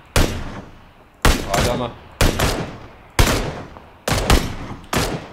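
Gunfire in the battle-royale game PUBG, six separate loud bursts about a second apart, each a sharp crack with a fading tail, while a player speaks briefly.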